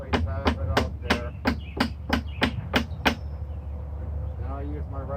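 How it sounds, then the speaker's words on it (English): A hammer taps lightly on aluminum coil stock capping a wooden fascia board about nine times in an even, quick rhythm, each strike bright and ringing, then it stops and a voice briefly murmurs. "I will switch to my regular hammer. I lightly tap it up there."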